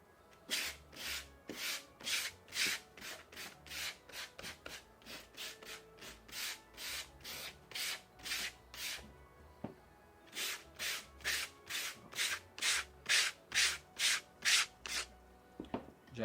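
Sandpaper rubbing the edge of a wooden nut holder during a Christmas craft lesson, a long run of rhythmic back-and-forth scratchy strokes, close and clear, briefly pausing midway before resuming, with no talking.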